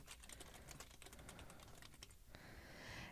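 Quick bursts of typing on a computer keyboard, faint and close, a run of light key clicks without talk.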